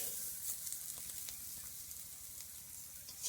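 Mushrooms fry in a pan with a soft, even sizzle and faint crackles, continuous and fairly quiet throughout.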